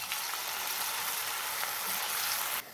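Potato pakoras sizzle steadily in hot oil in a wok, a close, even hiss of frying that runs without pause before cutting off abruptly near the end.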